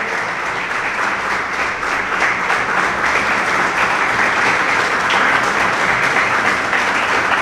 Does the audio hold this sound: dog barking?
no